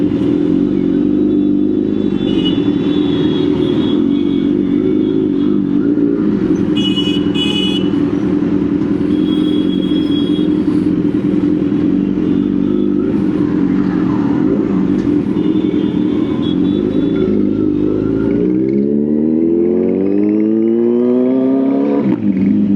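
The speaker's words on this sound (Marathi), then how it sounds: "हे ट्रॅफिक काय." Busy road traffic in Kolhapur, India, with a Kawasaki Z900 motorcycle idling among cars and other motorcycles: a steady loud engine drone throughout, occasional horns, and a rising rev near the end.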